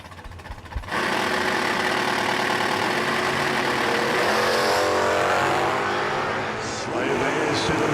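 Mustang and a pickup truck launch side by side down a drag strip, engines roaring loud and sustained after a brief idle, with an announcer talking over the racing.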